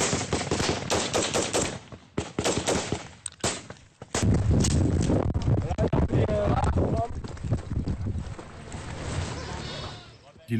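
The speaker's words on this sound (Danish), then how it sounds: "der bliver skudt." Gunfire in a firefight in Afghanistan, rapid bursts of automatic shots in quick clusters, loud and close, followed by jostling movement and shouted talk over the shooting.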